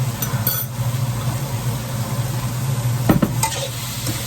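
Chicken sizzles in a hot wok while being stirred, with a steady hiss and a few scraping, clattering strokes of a utensil against the pan.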